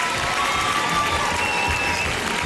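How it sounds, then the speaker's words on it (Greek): A studio audience claps in steady, dense applause that holds at an even loudness throughout, a broad crowd of hands without pauses. "θέλω από τώρα ένα χειροκρότημα"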